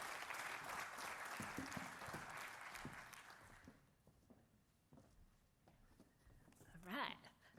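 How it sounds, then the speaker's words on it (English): Conference audience applauding for two presenters at a stormwater conference and expo, a steady wash of clapping for about four seconds that thins into scattered claps and quiet room noise, with a short voice near the end. "One more round of applause,"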